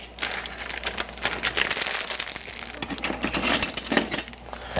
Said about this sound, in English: basically just drop the rice noodles right in there